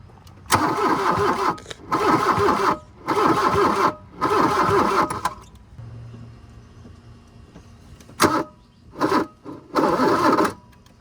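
Starter on a 1980 VW Caddy with a fuel priming problem cranks the engine in four long rhythmic bursts, then a pause and three shorter ones, loud and close without catching.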